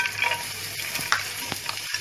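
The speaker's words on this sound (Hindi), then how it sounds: "ये देखो अभी ये तेल डाली हूँ और ये बोम्बिल डाली। अभी इसको देखो कैसा भुनी हूँ।" Bombil, Bombay duck fish, frying in oil gives a dense crackling sizzle close by, with a few sharper pops and stirring knocks scattered through, no voices present.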